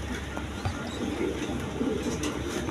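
Pigeons at a market selling breeding birds and chicks, low soft cooing running steadily through a dense, busy background murmur.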